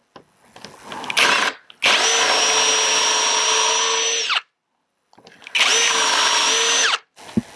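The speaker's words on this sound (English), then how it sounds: "I need a 9mm hole." Power drill boring a 9mm hole during model railroad construction: a short spin-up, then two long, loud, steady whining runs separated by a silent pause, each ending abruptly.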